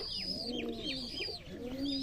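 Giribaz pigeons at a pigeon farm in Sonamasjid, Rajshahi, give soft, repeated throaty coos close by with a few chirps among them. The coos are faint and continuous, with no talking.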